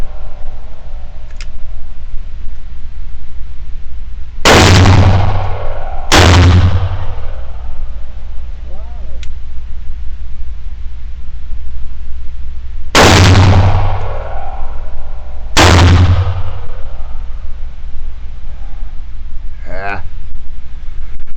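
.45 revolver shots at an outdoor gun range: four loud, sharp reports, two close pairs with a long pause between, each ringing briefly over steady background noise.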